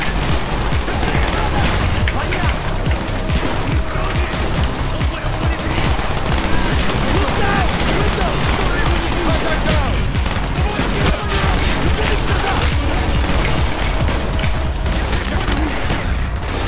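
Continuous heavy gunfire in Call of Duty: Black Ops, loud dense bursts and rapid shots layered over each other without pause, with explosive booms mixed into the sustained battle noise.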